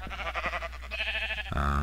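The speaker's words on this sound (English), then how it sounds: "gotten some sheep into a nice little barn here" Sheep bleating inside a barn in a video game, several wavering bleats in quick succession followed by a louder, sustained bleat at the end, fairly close and with no talk over it.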